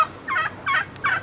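Standard Bronze heritage turkeys give three quick, close gobbles in a row against a quiet background.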